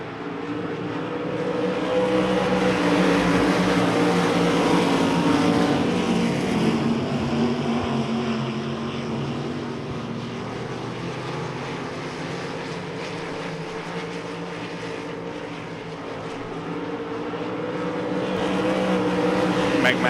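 Race cars roar together as a speedway race starts at Devil's Bowl Speedway, with a loud, steady engine drone throughout that swells again near the end.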